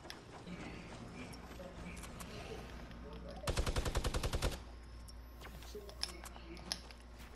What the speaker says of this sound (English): Where is he shooting these from?